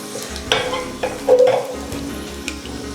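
Whole spices, cloves and cardamom, sizzle and crackle in a hot pan for Kerala-style kadala curry, with a few stirring scrapes and clinks close by over a steady low frying hiss.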